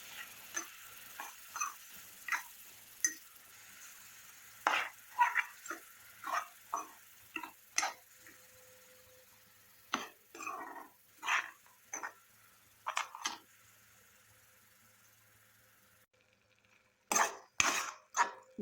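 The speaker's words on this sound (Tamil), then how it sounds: "சேர்த்துட்டு வெங்காயத்தை அந்த எண்ணெயோட சேர்த்து நல்லா வதக்கி விடுங்க." Ground onion stirred in oil in a pan for onion thokku, heard as a spoon clinking and scraping against the pan in scattered, fairly close taps with quiet gaps between, with no voices.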